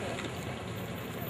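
Motorbike engine running steadily while the rider goes blindfolded along a road through Trichambaram, a continuous mid-pitched drone with a rough, knocking edge, close and fairly loud throughout.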